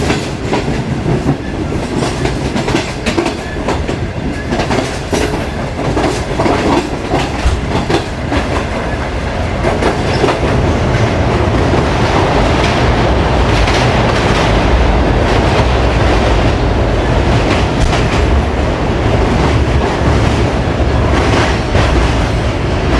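Shalimar Express passenger train rolling loudly over the Malir river bridge, a steady dense rumble of wheels and carriages with clickety-clack rhythm throughout, growing slightly fuller in the second half.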